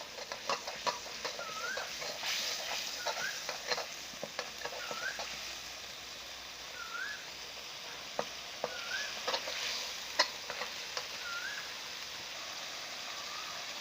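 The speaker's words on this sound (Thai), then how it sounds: "เคี่ยวส่วนผสมให้งวดเลยนะครับ" Thai curry paste mixture for spicy fried crispy catfish simmering and sizzling in a pan, a steady close frying hiss broken by repeated scraping stirs, with a faint rooster crowing several times in the background.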